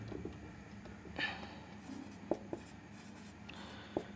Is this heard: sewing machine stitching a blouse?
no